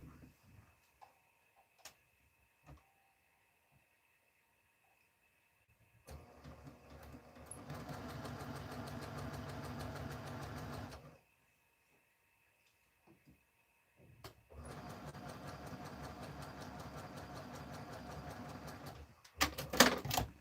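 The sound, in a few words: sewing machine sewing a quilt block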